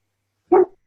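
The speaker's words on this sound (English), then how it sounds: "What are you barking about?" A single sharp dog bark rings out against silence, short and fairly loud, with a brief trailing tail.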